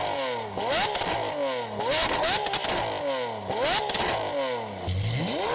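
A Lamborghini Aventador Ultimae with a valved Valvetronic exhaust revs hard several times in a row. Each loud, close rev climbs and falls in pitch, with crackling pops between them.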